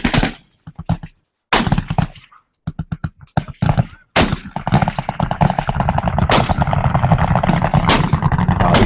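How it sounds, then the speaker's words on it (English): A minigun (Gatling gun) fires in short staccato bursts, then in a long sustained rattling stream, loud and close, with brief pauses between early bursts. "I'll try to get up close to this Gatling or to this minigun."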